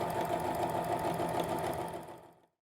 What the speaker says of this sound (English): we're gonna line up the edge of the presser foot and sew with that line and sew down the other side